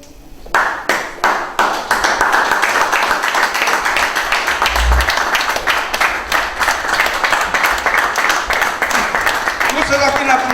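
A church congregation bursts into applause after a brief pause, dense sustained clapping that stays loud and even for several seconds, with voices calling out underneath.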